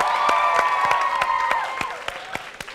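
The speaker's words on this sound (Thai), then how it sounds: "ขอเสียงปรบมืออีกรอบครับ" A stage-show audience at a sexy dance competition claps and cheers loudly, with sharp individual claps cutting through. The cheering thins toward the end into scattered claps.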